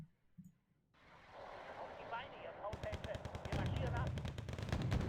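Rapid machine gun fire in the war strategy game Wargame: Red Dragon, dense repeating bursts that start midway and run to the end, loud and close, over game ambience with a voice speaking beneath.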